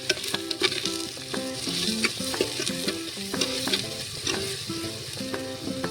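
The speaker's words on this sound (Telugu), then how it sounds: "ఉప్పు వేసుకొని మంచిగా కలుపుకోవాలి" Spicy mutton curry being stirred in a pan after salt is added, with busy scraping and sizzling, a spoon clattering against the pan in quick irregular strokes.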